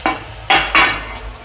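Fried okra stirred into roasted gravy in a pan gives loud spoon-against-pan scrapes, three strong strokes in quick succession over a soft sizzle.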